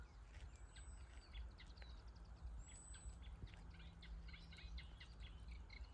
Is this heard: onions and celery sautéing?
no